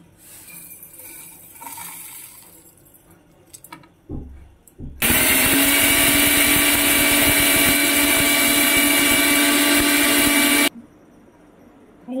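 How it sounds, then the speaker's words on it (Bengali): A mixer grinder grinds roasted whole spices for a mango pickle: a few clinks and a short spin-up, then a loud, steady, high whirring roar for about six seconds that cuts off abruptly. "আমি এবারে মিক্সিতে গুঁড়া করে দেবো।"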